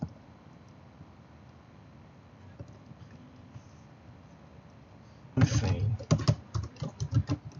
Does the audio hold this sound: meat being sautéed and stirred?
no